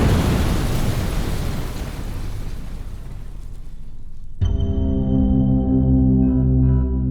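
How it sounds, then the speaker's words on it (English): Torpedo explosion tearing through the hull of the Argentine cruiser General Belgrano: a long, dense roaring rumble that thins out, then a sudden sharp burst followed by a heavy sustained boom with a droning tonal ring. "se escucha un gran sacudón seguido de una explosión"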